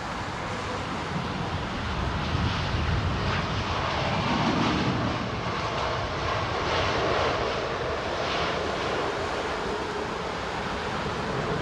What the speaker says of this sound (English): that was a plane that nearly tail struck during its landing